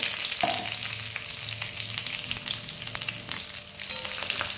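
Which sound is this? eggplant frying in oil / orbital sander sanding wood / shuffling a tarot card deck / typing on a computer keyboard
eggplant frying in oil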